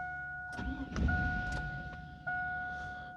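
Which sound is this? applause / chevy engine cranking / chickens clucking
chevy engine cranking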